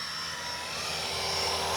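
A Blade Eclipse 360 RC helicopter flies nearby with a steady, high-pitched whine from its motor and spinning rotor blades, pitch rising slightly as it gets up to speed, with no one talking over it.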